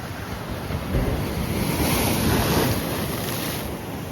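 Ocean waves crash and surge continuously against the rocky shore at Tanah Lot temple in Bali, a loud, steady roar of surf with wind buffeting the microphone, swelling and easing with no voices.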